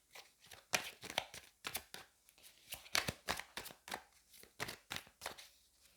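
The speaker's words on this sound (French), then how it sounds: "on va prendre le petit Lenormand, on va prendre là encore 3 cartes" Petit Lenormand cards are shuffled and drawn for a three-card spread, making a rapid series of crisp, close paper snaps and flicks in an irregular rhythm with short quiet gaps.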